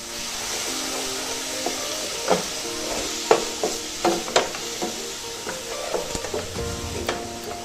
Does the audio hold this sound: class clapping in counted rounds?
no